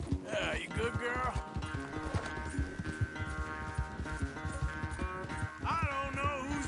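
Horse hooves clip-clopping in the Red Dead video game, a rapid rhythmic clatter running throughout under music and a voice speaking over it.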